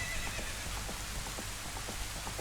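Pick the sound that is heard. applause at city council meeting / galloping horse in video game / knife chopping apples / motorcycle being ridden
galloping horse in video game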